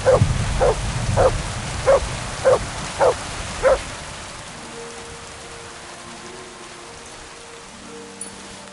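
Inside the video game Kingdom Come: Deliverance 2, a dog barks six times at an even pace over steady rain. The barking then stops, and only the rain keeps falling.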